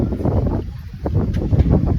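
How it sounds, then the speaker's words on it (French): Outdoor wind at a Pokémon Go event in Aix-en-Provence, a loud, gusty rumble buffeting the microphone throughout, with faint rustling in the background. "Il y a le vent."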